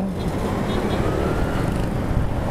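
Busy road traffic at a city crossing, a steady dense roar of car and motorcycle engines close by, continuous and loud throughout.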